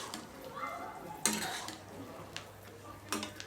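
Garlic pickle with dried chili flakes being stirred in a pot, with faint scraping and a few sharp clinks of a spoon against the vessel over a quiet background.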